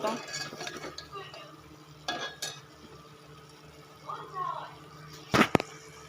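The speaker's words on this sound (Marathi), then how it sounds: "दोन मिनटं असं परतून परतून घ्यायचं मस्त" Masala for patwadi rassa is stir-fried in a pan, giving soft, intermittent scraping and clattering strokes with a gentle sizzle underneath, a sharper clank near the end, and a faint voice in the background.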